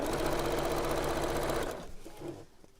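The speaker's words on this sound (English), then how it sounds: "Make sure the handles are neatly tucked inside, so we're not going to sew over the handles." A sewing machine stitching a fabric bag runs in a loud, rapid, steady mechanical chatter for about a second and a half, then slows and stops, leaving a few faint clicks and handling sounds.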